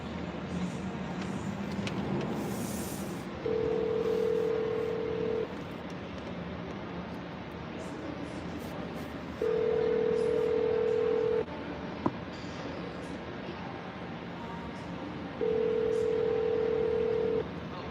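Phone call to a private home seller: three long steady ringback tones at regular intervals, each about two seconds, over quiet background hiss, with no voices.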